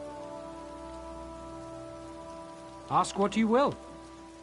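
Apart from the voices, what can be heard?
rain in the video game The Elder Scrolls Online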